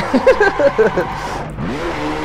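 A Ferrari 512 TR mid-engine sports car is driven with heel-and-toe downshifts, its engine revving loud and close in rising and falling blips that end in a climbing rev.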